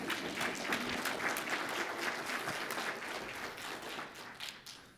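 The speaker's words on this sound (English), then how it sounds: "Applause." Steady audience applause at a keynote talk during a child health research retreat, a dense wash of many hands clapping that stays fairly even before gradually thinning toward the end.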